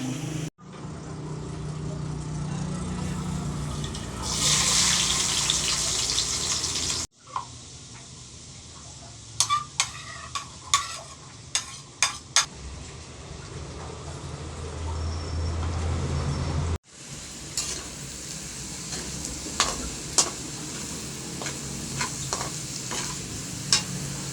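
Ingredients sauté in hot oil for pork bagoong alamang with eggplant, bursts of loud sizzling split by abrupt cuts, with sharp clacks of a spatula against the pan.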